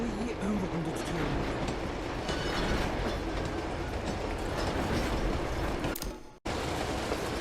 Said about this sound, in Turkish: Trene geldik şimdi